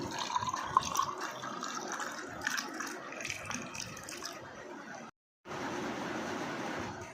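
Lemon water poured into a glass, a steady close trickle and splash that runs for several seconds, briefly cut off, then resumes.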